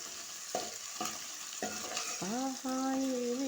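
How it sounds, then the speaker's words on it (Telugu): Freshly crushed ginger sizzles steadily in a hot pan while a utensil scrapes and stirs in repeated strokes; no one speaks. "ఇప్పుడే దంచుకున్న అల్లము పచ్చివాసన పోయేదాకా కలపాలి"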